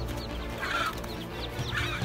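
Chickens cluck steadily and close by throughout, with a mother hen among the flock and a continuous low murmur of fowl sounds underneath.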